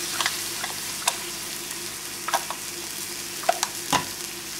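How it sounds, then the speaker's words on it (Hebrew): Tomato paste being stirred into shakshuka in a pan, with scattered scraping spoon strokes over a soft, steady sizzle of frying in the background. "ושוב מערבב"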